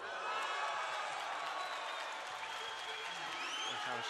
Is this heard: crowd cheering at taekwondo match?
yes